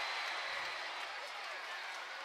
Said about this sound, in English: The crowd react to the blood of Jake Paul coming off his face as Deji lands with a right hand.